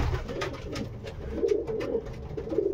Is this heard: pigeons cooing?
yes